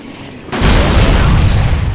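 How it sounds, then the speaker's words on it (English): In the video game Dead Rising, a sudden loud explosion boom bursts in after a quiet half second, followed by a sustained rumbling roar that stays loud to the end. "Explosion."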